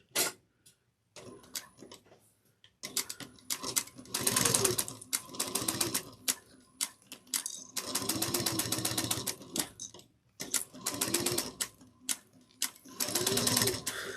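Sewing machine back stitching 1/8 inch along the long edge of a fabric bag handle, running in several close bursts of rapid mechanical stitching separated by short pauses.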